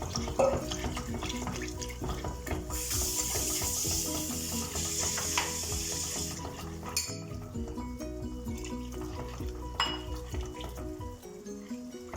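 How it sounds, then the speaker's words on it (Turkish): Five 200 ml glasses of water poured into a tomato soup pot, a loud rushing splash for several seconds, then clinks of the glass and pot, close up with music in the background. "Burada 5 su bardağı 200 milimlik suyum var. Onu ilave ediyorum."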